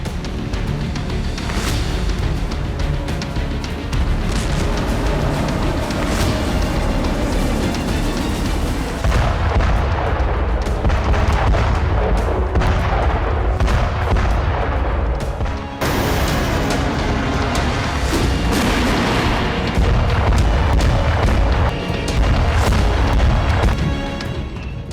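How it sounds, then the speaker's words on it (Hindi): A FAB-500 bomb explosion in Ukraine in daylight, heard as continuous loud, heavy rumbling and booming from blasts, with the roar swelling, dipping briefly and surging again. "ये FAB 500 बम का धमाका था।"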